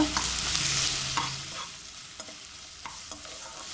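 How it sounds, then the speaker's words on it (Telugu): Onions and green chillies fry in a pan, a loud crackling sizzle at first that gradually settles, with a few light spatula taps while they are stirred. "ఉల్లిపాయలు పచ్చిమిరపకాయలు లైట్గా వేగిన తర్వాత"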